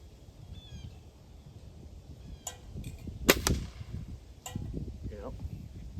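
Several sharp air rifle shots from a Gamo Swarm 10x Whisper, muted cracks spaced a second or so apart over low outdoor background noise, with faint voices and a bird call nearby.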